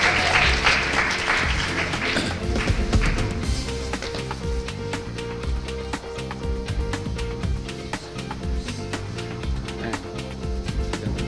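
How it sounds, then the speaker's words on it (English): Clapping from an audience at a robot demonstration on a morning show, a continuous brisk patter that runs throughout over a steady background of music. "You may applaud."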